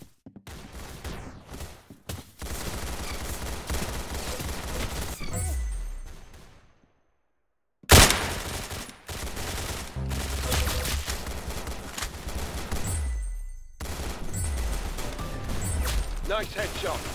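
Rapid gunfire fills a Roblox Arsenal match, dense bursts of shots with sharp pauses and a brief silence before firing resumes, with a voice speaking over the action.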